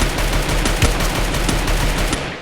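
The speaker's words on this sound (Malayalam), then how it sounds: "ഒരു വെടി വന്ന്" Rapid gunfire from the mobile battle royale game Free Fire MAX, a dense continuous burst of automatic shots with sharp repeated cracks running the whole stretch, loud and without talk.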